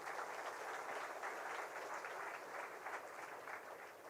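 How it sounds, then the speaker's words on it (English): An audience at a college initiation day claps, a soft, distant-sounding patter of many hands that holds steady and tapers slightly toward the end, with no voices. "You can clap, nothing wrong."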